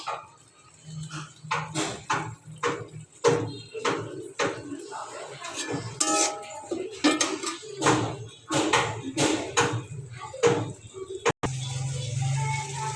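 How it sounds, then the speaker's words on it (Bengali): A utensil stirs mustard oil in a cooking pan for a taki fish mash, making repeated close metallic clinks and scrapes in an uneven rhythm, ending in a steady hiss. "তেলটা দেওয়ার পর একটু নাড়াচাড়া করে দেব"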